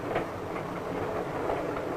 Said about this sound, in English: the train is approaching a station